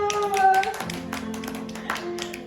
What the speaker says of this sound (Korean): 우리 시온이 반가워요. 박수